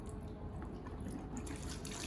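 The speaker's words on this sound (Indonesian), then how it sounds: "buka keran lalu basahi tangan" A tap runs while hands are wetted under it, a soft continuous splash and trickle of water into a sink, close and fairly quiet.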